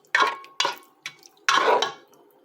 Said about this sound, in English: another 1 tablespoon of ketchup, and then we mix